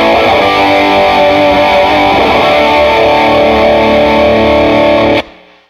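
An electric guitar played through a TopHat Emplexador 50 watt Plexi amp gives a loud, heavily distorted sustained chord that rings steadily for about five seconds and then cuts off abruptly.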